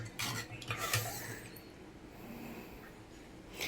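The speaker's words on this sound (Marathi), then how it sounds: "आणि परत असं ढवळून घ्यायचं आहे" Pani puri water being stirred after cumin powder is mixed in, giving soft clinking and swishing of a spoon against the vessel at close range, with a few brief louder scrapes and no talk.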